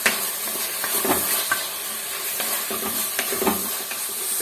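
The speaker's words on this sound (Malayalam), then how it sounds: "കുറച്ച് കറിവേപ്പിലയും കൂടെ നമുക്ക് ഇതിലേക്ക് ഇട്ട് കൊടുക്കാം. ഇട്ട് നന്നായിട്ട് വഴറ്റാം." Onions and curry leaves sauté in a hot pan, giving a loud, continuous sizzle broken by frequent scraping strokes of a stirring spoon, close up and with no speech.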